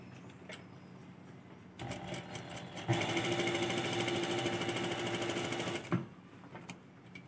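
A Singer high-speed sewing machine runs a thread-tension test stitch, a rapid even mechanical whir of about three seconds between lighter intermittent clicks and softer running.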